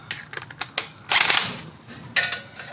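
An impact gun fitted with an impact-rated universal joint works a front brake bolt loose on a GMC 2500 HD Denali truck. A few sharp clicks come first, then a loud, close burst of rapid hammering, with a shorter burst near the end.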